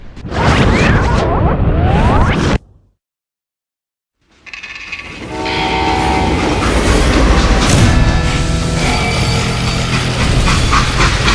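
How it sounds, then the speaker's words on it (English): A freight train in the video game Call of Juarez: Gunslinger rumbles and clatters loudly, cuts to silence for a moment, then resumes with rolling wheels and a horn-like tone over the noise. "How'd they stop this train in the first place?"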